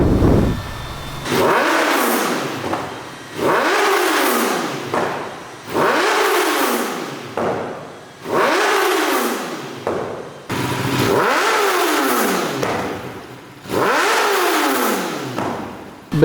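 A Kawasaki ZX10R motorcycle fitted with a full aftermarket exhaust system revs hard and loud, close by, in seven repeated blips, each rising sharply then falling back to idle.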